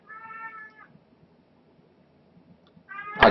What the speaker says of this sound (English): Can you hear him meowing?